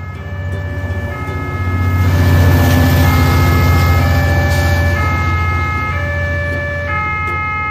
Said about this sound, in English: Police pickup truck.